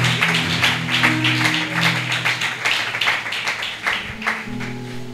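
A church congregation claps together in quick, steady rhythmic applause, loud and close, with a low sustained musical tone underneath throughout.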